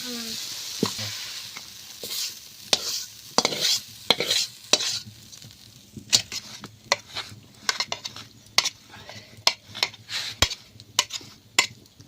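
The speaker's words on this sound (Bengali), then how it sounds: "শাক ভাজাটা হয়ে গিয়েছে" Water spinach (kalmi shak) stir-frying in a pan, with a soft sizzle beneath a quick, uneven run of sharp metal spatula scrapes and knocks against the pan, close and loud with no talk.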